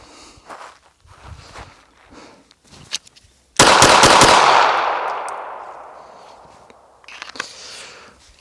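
A Smith & Wesson Performance Center Bodyguard 2.0 compact pistol fires a rapid string of loud, sharp shots, close by, with a long ringing decay, after some quiet shuffling and handling noises.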